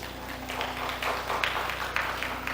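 A church congregation at a Sunday worship service claps together, a brief run of rather faint, uneven hand claps over a low steady hum in the room.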